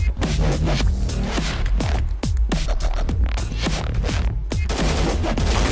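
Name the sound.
sniper rifle gunshots in a first-person shooter video game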